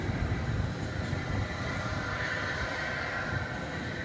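An airliner climbing steeply away on takeoff at Dallas Fort Worth Airport at night gives a steady, loud broadband jet roar that swells slightly at first and then holds evenly throughout, with no voices over it.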